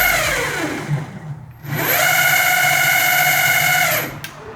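An electric longboard's hub motor spins its wheels up with a rising whine, slows to a near stop, then whirs back up to a steady high-pitched hum before winding down.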